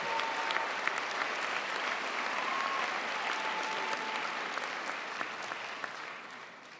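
Sustained applause from a large audience at a university chemistry commencement ceremony, steady dense clapping filling the hall for several seconds before tapering slightly at the end.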